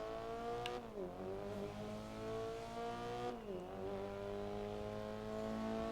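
A Subaru's engine in the racing game GRID, a steady harmonic drone that dips twice as gears shift and then climbs again, close and continuous with no talk over it.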